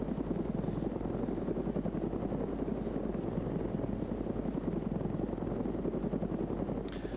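A helicopter in the Vietnam-era Arma 3 Unsung mod thuds with rapid, steady rotor beats over a low engine drone, loud and continuous, with faint gunfire-like pops mixed in.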